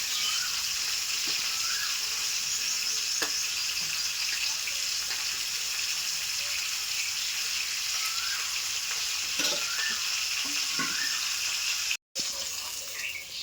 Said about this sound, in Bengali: আর মাছের মাথাটা লাল লাল করে ভাজা হয়ে গেছে